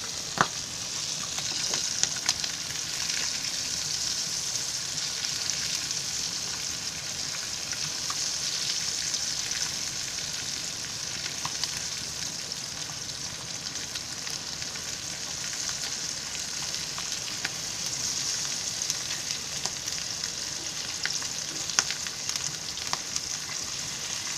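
Pieces of catfish coated in masala sizzle steadily in hot oil in a pan, a loud continuous frying hiss with occasional scrapes and taps as the fish is turned.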